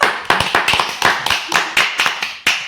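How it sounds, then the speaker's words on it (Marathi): A small group clapping for a woman, loose uneven handclaps coming in quick bursts, close by and crisp, with no voices over them. "टाळ्या वाजवा रे मॅडम साठी."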